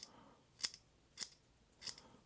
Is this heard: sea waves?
no